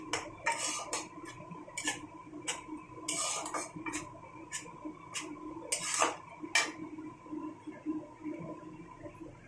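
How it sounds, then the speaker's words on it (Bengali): A spoon stirs chicken chili gravy with soy sauce and vinegar in a pan, giving a series of sharp metallic clinks and scrapes at an irregular pace, close up and fairly quiet, with no talking. "1 চামচ মতো সয়া সস, 1 চামচ মতো ভিনিগার দিয়ে হালকা নাড়াচাড়া করে নেব।"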